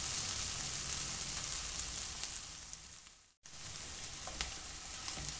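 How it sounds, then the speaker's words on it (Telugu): Cluster beans fry in a pan for a flaxseed stir-fry, a dense, even hiss of sizzling oil heard up close, broken by a brief silent gap before the frying resumes. "ఈ గోర్చిక్కుడు బాగా ఫ్రై అయింది, ఒక్కసారి మనం ఇలా కలుపుకోవాలి"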